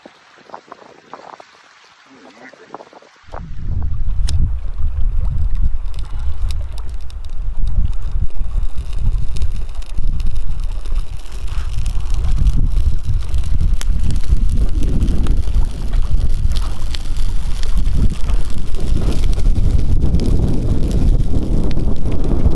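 Strong wind roars steadily across the microphone at a lakeside campsite in Algonquin, a loud continuous rumbling buffet after a brief quieter opening, with no clear voices.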